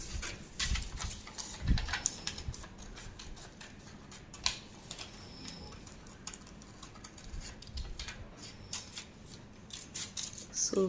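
Scissors cutting out a shirt pattern on paper, with repeated crisp snips and slides at an irregular pace close by, and faint talk in places.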